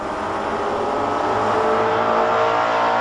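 A loud, roaring drag-racing station wagon engine at full throttle at a 1993 NHRA event at Race City, Calgary, steady and powerful throughout with no pauses.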